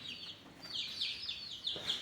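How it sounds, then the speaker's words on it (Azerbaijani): Month-old chicks on a small poultry farm cluck and peep in a steady run of short bright calls, fairly close, with no talk over them. "bunlar da ki mənim hardasa bir aylığa yaxın bir cücələrimdir"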